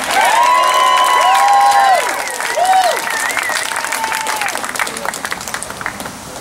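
A large crowd at a health care rally claps steadily and loudly, with scattered whistles and cheers rising over the applause before it begins to taper.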